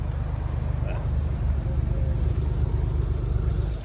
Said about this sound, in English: we got another Alfa Romeo Quadrifoglio coming through